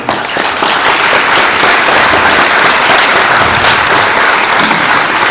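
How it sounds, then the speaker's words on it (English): An audience at a university panel discussion breaks into loud, sustained applause, dense clapping that fills the room evenly from start to finish without voices standing out. "give yourself a round of applause for being here"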